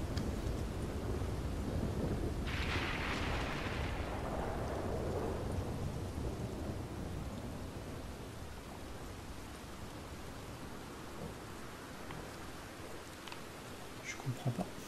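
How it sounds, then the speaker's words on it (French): Steady rain pours throughout in Red Dead Redemption 2, with a rolling thunder rumble swelling early and fading into the continuous downpour; a voice speaks faintly over it. "il y a la pluie qui me déconcentre là de ouf"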